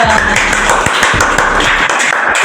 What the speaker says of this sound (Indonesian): Keren, tepuk tangan dulu.